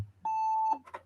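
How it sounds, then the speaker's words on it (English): A single electronic beep in the background, a clear sustained tone holding for about half a second, followed by a brief muffled sound. "I'm not sure why I just had a beep in the background"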